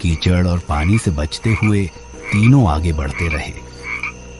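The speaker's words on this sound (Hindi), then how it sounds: "कहीं दूर से मेंढकों की टर्राहट" Frogs croak in a dark, muddy forest at night. The croaks sit under a narrator's voice, with faint insect chirring in the background.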